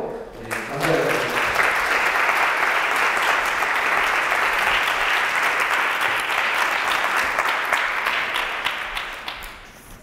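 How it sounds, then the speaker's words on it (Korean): Steady congregational applause at a Sunday young adults' church service, starting after a brief voice and holding evenly for nearly ten seconds before tapering off. "우리 박수로 감사합니다."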